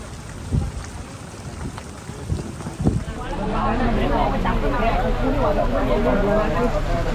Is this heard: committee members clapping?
no